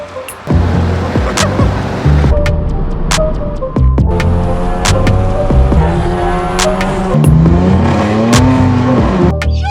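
A 350-horsepower VW MK7 GTI accelerates hard on a drive, with loud engine notes rising and falling through repeated gear shifts and steady road noise throughout, and no talking.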